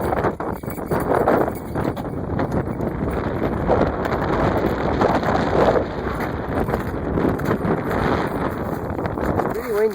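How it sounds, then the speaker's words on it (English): Strong wind roaring across the microphone outdoors during a dog search-and-rescue exercise, a dense continuous buffeting rumble that persists throughout, with a voice speaking at times over it. "It's pretty windy, and the wind blows all the scent away"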